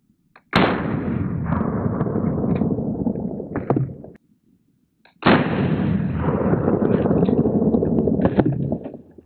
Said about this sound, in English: It is a 38 Special 158 grainer from Federal, coming out of a 340 J frame here.